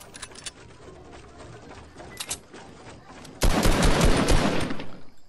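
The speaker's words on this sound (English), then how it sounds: "I shot at him, but I didn't hit him." Gunfire in Fortnite during a duo match: a quiet stretch with a few faint shots, then a loud, dense burst of rapid automatic fire near the end.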